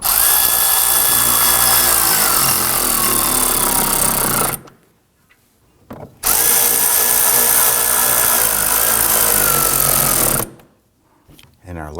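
A power tool drives the last two screws into a front inner fender liner on a 2015-2020 Ford F-150, in two loud, sustained whirring bursts whose pitch shifts, each followed by a short near-silent pause.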